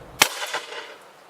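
A single sharp report from a Benelli 828U over-and-under shotgun fired at clay targets outdoors, with a sharp crack followed by a short decaying echo.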